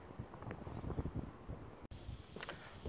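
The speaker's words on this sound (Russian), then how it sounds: "И прям ветер какой-то в спину." Wind gusts outdoors in Spain at Christmas, buffeting the microphone as a steady rumbling rush with faint rustling, fairly quiet throughout and broken by a brief dropout near the two-second mark.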